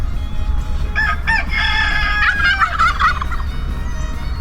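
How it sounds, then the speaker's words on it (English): Farm turkeys gobble on open ground in South Carolina, a few loud, close rattling bursts over steady low outdoor rumble, with no talking. "oh, they're farm turkeys"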